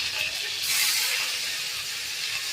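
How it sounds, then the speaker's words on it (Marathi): Mustard seeds, cumin and curry leaves spattering in a spoonful of hot oil in a kadhai, a steady bright hiss and crackle that continues throughout, close and fairly loud. "आता आपण फोडणी देऊया."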